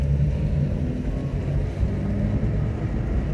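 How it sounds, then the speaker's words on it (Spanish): A Chevy's steady engine rumble and road noise from inside the cabin, continuous and fairly loud, with faint low thumps as it rolls over potholes. "vamos a pasar los baches"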